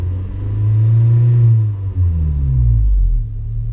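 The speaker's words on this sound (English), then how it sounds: "then when I rev it," Honda K24Z7 engine with a CNT 3-inch downpipe revving, two deep throaty rises and falls of the exhaust rumble, close and loud, with no talking.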